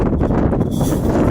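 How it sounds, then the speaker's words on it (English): Strong wind blowing hard against the microphone outdoors during metal detecting, a continuous loud roaring buffet with no voices. "Wind's blowing real hard, sorry about the wind."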